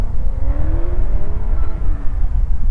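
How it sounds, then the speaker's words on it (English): V8 car driving on a skid pan during drift practice, heard from a distance as a steady engine drone with rising and falling revs across the whole stretch. "We can hear a car out there at the moment"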